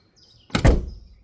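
A Citroën car door slams shut with one loud, close thunk after a brief quiet moment, followed by a short fading rattle.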